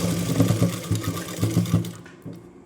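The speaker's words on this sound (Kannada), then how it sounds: "ಆ 1 ಇಂಚಿಗೆ ನಾನಿಲ್ಲಿ ಸ್ಟಿಚ್ನ ಹಾಕ್ಕೊತಾ ಇದ್ದೀನಿ" A sewing machine stitches nightie fabric in quick, rhythmic bursts of mechanical chatter, close and loud, pausing briefly before stopping near the end.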